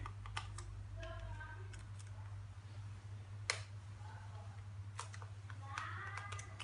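Plastic clicks and snaps come from a Nintendo 3DS case being pressed shut, followed by small scattered taps and clicks of screws being tightened, all quiet and close over a low hum.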